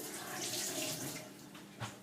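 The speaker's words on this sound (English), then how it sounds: "Let me give my hand a quick wash." Tap water runs steadily as hands are washed at a kitchen sink, a continuous close splashing hiss with a slight swell near the end.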